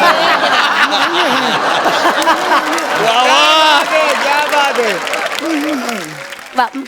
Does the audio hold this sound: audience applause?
yes